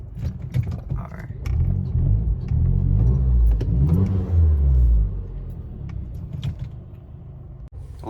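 A Mazdaspeed 3 fitted with a Cobb short ram intake and Cobb access port revs up in a swelling, close engine roar that rises and falls for a few seconds, surrounded by brief clicks and handling noises.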